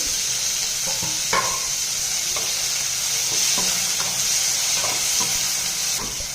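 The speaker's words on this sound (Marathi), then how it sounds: "कांदा आपण सोनेरी रंगावर मिडियम गॅसवर भाजून घ्यायचा आहे" Onion and tomato frying in a pan over medium heat, a continuous close sizzle and hiss broken by several scraping stirs of a spoon, with no talking.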